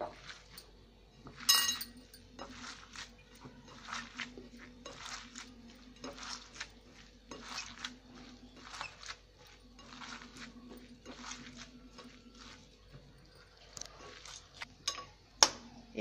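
Vegetables being mixed by hand with turmeric and ginger paste in a bowl for a vegetable pancake, heard as light, steady clinking and scraping against the bowl in a repeating rhythm, close and fairly quiet with no talking.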